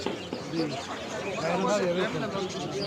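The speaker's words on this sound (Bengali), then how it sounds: "এই যে খাঁচার ভিতরে মার্শাল্লাহ অনেক সুন্দর একটা টিয়া পাখি" A caged female parrot at the Putia bird market in Bangladesh calls out amid a busy crowd, with bird chirps and coos mixed into steady market chatter and voices nearby.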